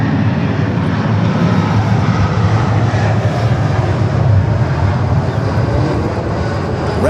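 A Boeing 777 freighter at Los Angeles International Airport gives a steady, loud engine roar that holds throughout without a break, heard alone with no voices.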